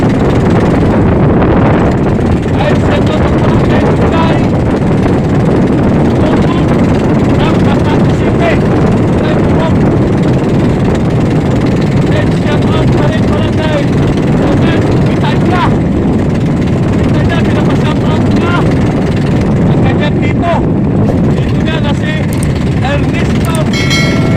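Loud, constant amihan wind buffets the microphone, a heavy low rumble roaring for the whole stretch with no pauses.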